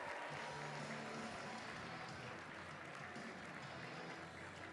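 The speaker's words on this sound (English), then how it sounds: "Clap it up for Bautista." Audience applause at a Model UN opening ceremony, a steady dense wash of clapping that holds at an even level throughout, with a faint crowd murmur beneath.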